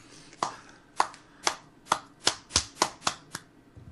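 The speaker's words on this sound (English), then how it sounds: "I gotta give you the slow clap" A slow clap from one person, about eight sharp, evenly spaced hand claps roughly half a second apart, close and distinct with quiet gaps between them.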